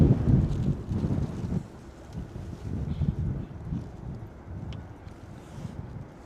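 Strong wind at London Stansted Airport buffets the microphone in a steady low roar with gusty surges, loudest at the start and easing slightly, with no talk.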